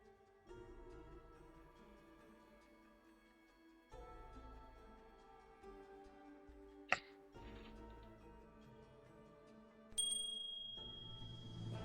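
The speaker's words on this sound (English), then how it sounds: "A bell rings" In the xianxia video game Tales of Justice Academy, a bell rings with a sharp, bright strike that leaves a ringing tone, heard over quiet game music and soft ticking, with a second chime near the end.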